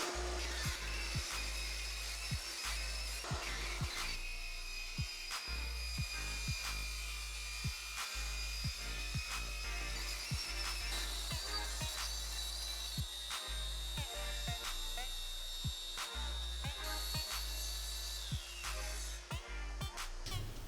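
A Bosch track saw cuts along its track through a board, a steady high motor whine paired with a rhythmic series of evenly spaced low thumps, moderately quiet and continuous for about twenty seconds.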